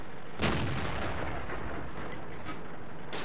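Heavy tank cannon fire in World of Tanks, including a T95 and a Black Prince, with a single loud boom followed by a rumbling decay and another blast starting at the very end.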